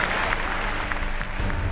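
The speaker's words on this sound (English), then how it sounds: "The crowd show their appreciation for the young swordsman's efforts." A crowd in a kendo hall applauds after a bout, dense steady clapping throughout, close and full, with a voice faintly audible underneath.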